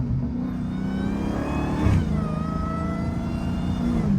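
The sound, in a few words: Dodge Hellcat SRT supercharged engine revving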